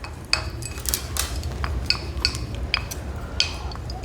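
A utensil stirs a mix of aloe vera gel and rose water in a bowl, giving repeated sharp clinks and scrapes against the bowl in quick irregular succession, close and alone.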